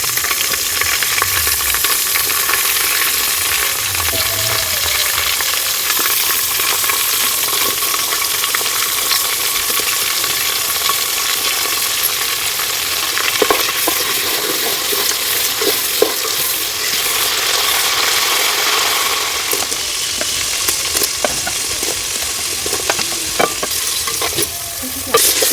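Garlic, onion, green chilli, garlic leaves and red chilli fry in a pan with a steady, loud sizzle and hiss, with occasional stirring scrapes and clinks throughout, and no voices.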